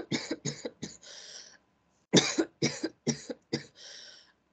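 A run of harsh, hacking coughs in two bursts, four or five each, separated by a short pause; close and loud, with no talking.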